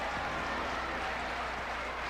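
At a men's college volleyball match in 1991, a crowd roars and applauds in a dense, continuous wash of clapping and cheering throughout.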